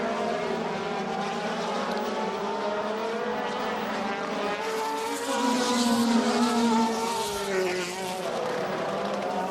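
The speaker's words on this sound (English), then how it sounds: "Finally grabs the gear, spins the wheels, and out he goes." A DTM race car at the 2010 Adria round revs hard, spins its wheels and pulls away, its loud, continuous engine note rising in pitch and intensity midway before settling.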